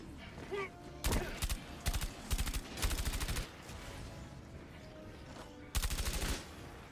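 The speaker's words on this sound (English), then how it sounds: "I'm just gonna test the SMG, right?" SMG gunfire in Helldivers 2, heard as several short rapid-fire bursts, each a tight rattling string of shots, with a last burst near the end and quieter gaps between them.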